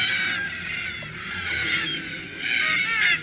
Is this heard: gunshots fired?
no